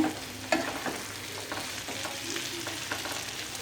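Chickpea bhuna (boot bhuna) sizzles in a pan while a spoon scrapes and stirs in irregular strokes, with a sharper clack near the start; close and fairly quiet, with no talking.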